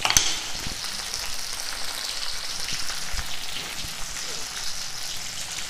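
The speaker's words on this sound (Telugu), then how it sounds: "ఆయిల్లో ఫ్రై చేసుకుందాం." Ingredients for lemon pickle fry in oil with a dense crackling sizzle like light rain, steady and close, with a sharp clatter at the start and a few faint knocks.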